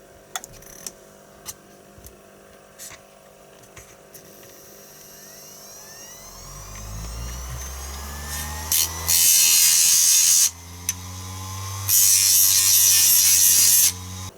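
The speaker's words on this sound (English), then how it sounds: "I'm just gonna sand them on my sander" An electric sander spins up with a rising whine, then grinds loudly in two sustained passes over the edges of a small wooden frame, separated by a short pause, close and harsh.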